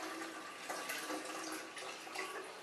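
Ambrosia juice being strained, a continuous trickling, splashing pour of liquid with small drips, close and steady for nearly three seconds, no talk.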